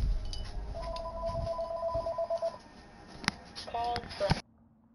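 A telephone rings in God of War Ragnarök gameplay, a repeating electronic tone pattern heard under talk, followed by a few short tonal beeps before the sound cuts off.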